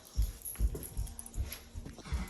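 A male intact dog at a breeding kennel in Tennessee makes soft, low huffs and whimpers in a repeated, irregular rhythm, close and fairly quiet.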